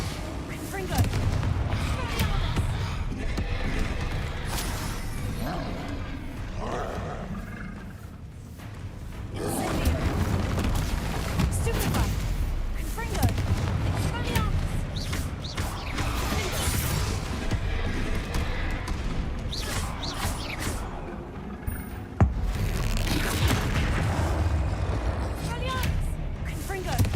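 Confringo and Incendio spell blasts burst in Hogwarts Legacy as a steady series of booming, roaring explosions, with a voice talking over the top throughout.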